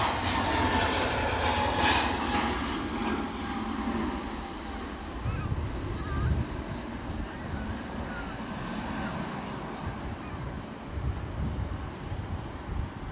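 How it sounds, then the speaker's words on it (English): At Edinburgh airport, a Delta A330 airliner taxis out with a steady jet engine roar. People talk nearby over the rumble, which fades after the first few seconds. "you're going to see the Delta 330 in the back of this shot as it taxis out."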